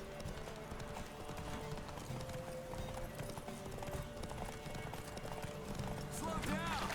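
A horse gallops in the video game The Witcher 3: Wild Hunt, its hooves clip-clopping in a fast, steady rhythm at moderate volume beneath faint background game sounds.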